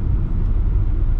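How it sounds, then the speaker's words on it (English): Steady low rumble of road traffic around a broken-down car stopped in the middle of the road, a continuous moderate drone with no distinct events. "That car is broken down in the middle of the road."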